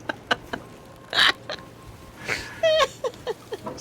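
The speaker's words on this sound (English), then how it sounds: "your owl makes the cutest noise." A pet owl in the pirate game Sea of Thieves gives a string of short, chirpy hoots and squeaks, some bursts louder and higher, scattered irregularly across a few seconds over quiet background.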